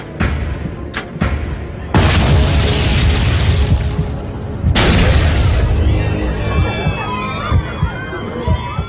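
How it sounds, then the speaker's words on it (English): Two heavy booming blasts aboard an airliner in flight, each followed by a long roaring rumble, with warbling alarm-like tones rising over the noise afterward. "Two explosions rock the plane."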